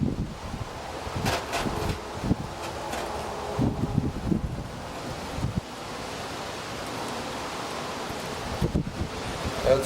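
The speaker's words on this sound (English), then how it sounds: "It's windy as heck out here today" Wind blows steadily across the microphone outdoors during tank brazing work, with gusty rumbles and buffeting that rise and fall throughout.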